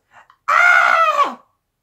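A human voice imitates an angry goat cry: one loud, sustained nasal bleat of about a second that drops at the end, preceded by a faint short vocal sound.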